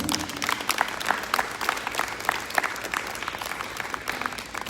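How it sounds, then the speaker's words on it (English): Applause from a temple audience at a Guru Purnima celebration in Kentucky, honoring a woman called up on stage; steady, moderately loud clapping from a sizable crowd throughout, with no talk over it. "if everyone can give her a very, very, very big round of applause"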